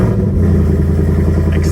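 Ford Mustang engine setting off, a loud, steady low rumble heard up close without a break.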